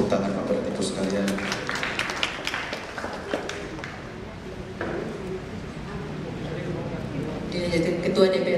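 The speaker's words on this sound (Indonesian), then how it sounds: "Kita tepuk tangan Bapak Ibu sekalian." Seated audience clapping at the opening session of a church synod in Kupang, a patter of hand claps that comes and goes beneath a speaker's voice and steady room chatter, rising again near the end.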